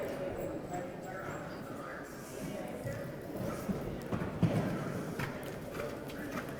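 A big thoroughbred stallion moves at a horse show, his hooves giving soft, uneven clip-clops over a busy background hum of crowd and voices.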